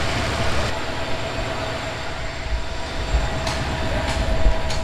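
A train runs on rails between Burimari and Lalmonirhat, giving a steady, loud rolling rumble with soft rhythmic low thumps throughout and no voices.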